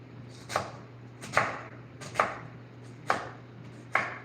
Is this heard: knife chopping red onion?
yes